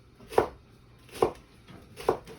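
A knife chops through a bunch of scallions on a cutting board in three sharp, evenly spaced strikes, close and clear with no talking.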